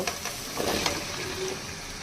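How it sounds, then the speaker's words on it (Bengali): Sliced beans and potatoes go into a spice paste frying in the pan. A steady, fairly loud sizzle runs throughout, with a few soft thuds and rustles as the pieces drop in. "এখন কেটে রাখা সিম এবং আলুগুলো দিয়ে দিব"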